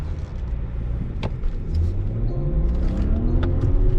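A pickup truck engine rumbles low and steady, its pitch climbing gradually as it revs up, with a couple of faint clicks along the way.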